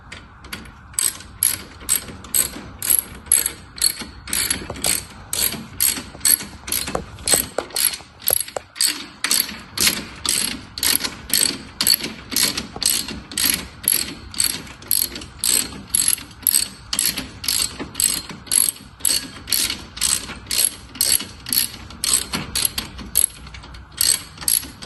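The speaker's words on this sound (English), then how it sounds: "Then using our 10mm hex drive, tighten the bolt." Ratchet with a 10mm hex drive tightening a bolt while reinstalling New Heritage singletree bushings, a loud steady run of rapid clicking pawl strokes in even bursts throughout, with no talk.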